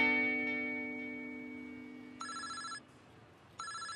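A telephone rings with a bright electronic trill in two short bursts, following the fading tail of an earlier tone; no voices.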